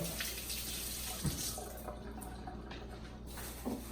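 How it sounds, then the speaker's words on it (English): Running tap water splashing over a hand being rinsed at a sink during juicer cleanup, a steady close wash with a few brief drips and knocks and no talking. "I'm going to rinse my hand here briefly"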